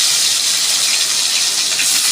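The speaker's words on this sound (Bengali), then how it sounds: "পেঁয়াজটা আমি লাল লাল করে ভেজে নেব" Chopped onion with dried red chilli sizzling in hot oil in a home kitchen pan, a steady, loud, close frying hiss with no talking.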